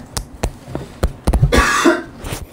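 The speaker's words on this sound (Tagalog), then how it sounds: "Ayun ang tunog niya. Ubo." A squeezed toy makes several short raspy coughing sounds in quick succession, followed by a longer wheezy, breathy burst, close and fairly loud.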